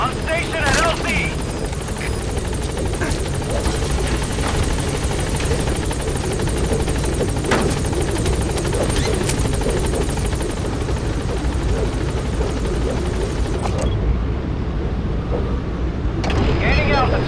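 A hovering game helicopter in Metal Gear Solid 5: The Phantom Pain keeps up a loud, continuous rotor thrum and whine with rhythmic blade chop, while radio-style voices talk over it now and then.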